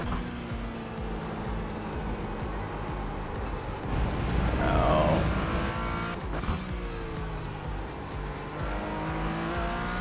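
Race cars in the iRacing video game roar continuously at close range, with engine notes rising and falling through a corner and a brief tire squeal midway.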